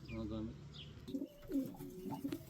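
Soft pigeon coos, a few low throaty calls in a short burst, with people talking nearby.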